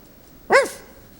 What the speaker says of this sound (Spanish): Trate de hacer hablar un perrito.